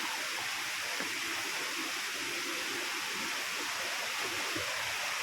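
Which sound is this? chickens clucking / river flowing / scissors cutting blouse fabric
river flowing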